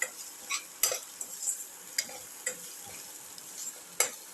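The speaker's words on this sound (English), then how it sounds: "Keep on sauteing." Garlic, shallots and ginger heavily salted and stirred in a pan, with a soft background sizzle broken by scattered scraping clinks of a utensil against the pan, quiet and close.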